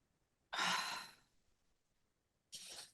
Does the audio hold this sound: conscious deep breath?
yes